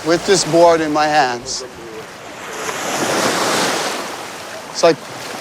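Waves wash onto a Hawaiian beach in a broad, steady surf roar that swells and holds after a voice speaks over the opening seconds, with a short knock near the end.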